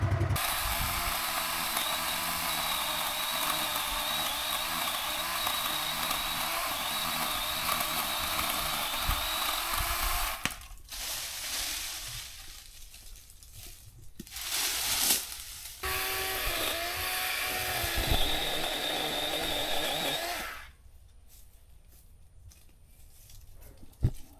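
A small DeWalt chainsaw cuts through underbrush in a steady, whirring mechanical buzz. It runs in several long bursts separated by short pauses, then cuts out near the end.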